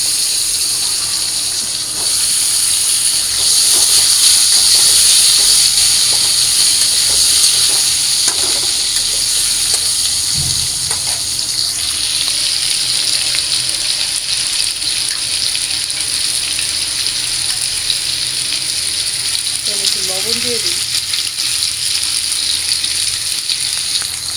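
Potatoes frying in oil with cumin seeds in a pan for a light home-cooked curry. A steady, even hiss of frying holds for the whole stretch, with a few soft clinks.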